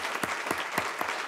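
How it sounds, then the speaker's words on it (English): At a Chandler school district governing board meeting, a handful of people clap for a staff member in a brief burst of four or five distinct, evenly spaced claps heard up close. "Let's give him a round of applause."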